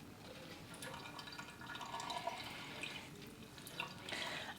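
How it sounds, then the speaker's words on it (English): Water poured onto a houseplant, a soft continuous trickle and patter of watering with faint drips, close and quiet, no talking. "Give her a good water."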